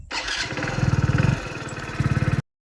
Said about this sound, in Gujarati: હવે બાઇક ચાલુ કરીએ અને ઘરે જઈશું